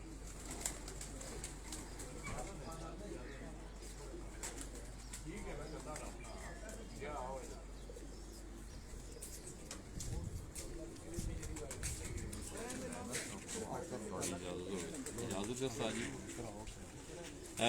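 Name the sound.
pigeons cooing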